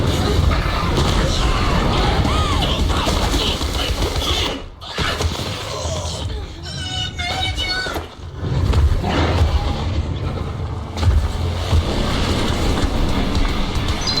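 A car driving in Zenless Zone Zero, a steady rumbling engine and road noise running throughout with brief dips, while voices and game chatter play over it.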